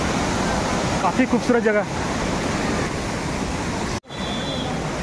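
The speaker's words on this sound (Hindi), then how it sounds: "गिर रहा है पानी नीचे, ये देख सकते हैं।" A waterfall pours down at a scenic hidden beauty spot in Bargarh, Odisha, as a constant broadband rush of falling water that stays steady throughout, with brief voices in the foreground.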